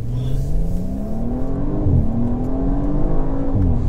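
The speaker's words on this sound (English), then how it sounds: "Them gear changes are loads quicker than in my car" An Audi engine revs hard and climbs in pitch, dipping briefly at quick gear shifts before rising again, loud and close with no voices.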